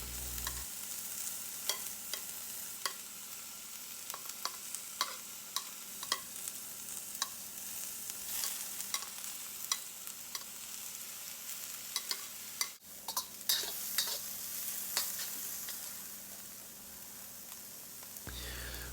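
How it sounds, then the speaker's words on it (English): Green beans and shrimp stir-frying in a pan, with a low steady sizzle broken by frequent light clicks of the utensil against the pan, close but quiet, with no voices. "add the green beans and the shrimp and stir fry until the shrimp is cooked"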